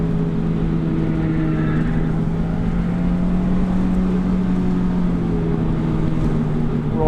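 A car on a race track at a Carfest event, its engine droning loud and steady then climbing in pitch as the throttle opens out of a turn, continuous and close with no talk.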